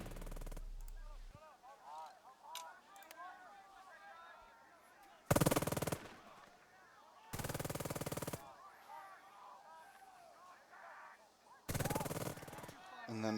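Small arms gunfire in the WWII strategy game Burden of Command, set in the Anzio trenches: three loud sustained bursts of rattling fire over a quiet background with a voice talking in between.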